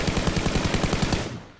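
Automatic gunfire from a squad-based video game shooter rattles off in a rapid, loud, close burst of evenly spaced shots, then cuts off and fades near the end.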